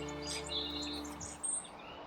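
Bird chirps and high tweets scattered over a low steady hum, moderately faint, with no voices.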